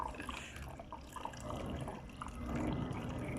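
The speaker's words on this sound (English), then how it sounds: "Cold weather, trickling water." Water trickles and drips from a bleed screw on a Peugeot 406 2.2 HDi in cold weather, a soft, steady wet dribble over a continuous background rumble, swelling slightly toward the end, with no talk.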